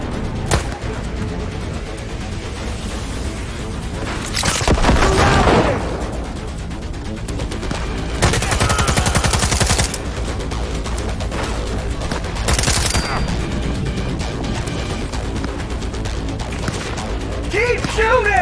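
Heavy gunfire in the video game Cyberpunk, with loud sustained bursts and dense volleys of shots recurring over a constant rumbling game backdrop, and a voice shouting between the bursts.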